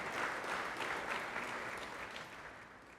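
An audience at the 2022 Sages Over 70 event gives a round of applause for the event sponsors, with sustained, even clapping that slowly tapers off toward the end.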